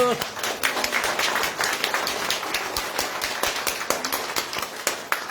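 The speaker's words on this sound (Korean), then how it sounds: "박수!" Party members applauding at a local branch members' meeting with a candidate, a loud run of dense, close clapping that keeps up steadily throughout.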